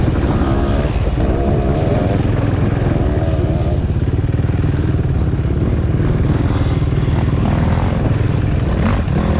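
A two-stroke dirt bike revs past during a GNCC off-road race, a loud, close, continuous buzzing engine roar with rising and falling pitch. It layers over the steady drone of another machine.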